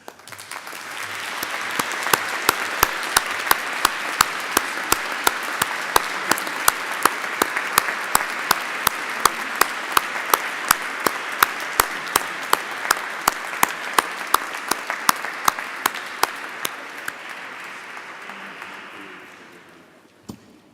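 Congregation applause at a solemn Christmas Mass inside a cathedral, a dense sustained clapping swelling in a reverberant space with sharper claps standing out, fading away after about twenty seconds.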